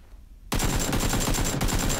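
AKM assault rifle fire in PUBG on Xbox, starting abruptly after a quiet half-second into a loud, rapid string of close shots that continues without break to the end.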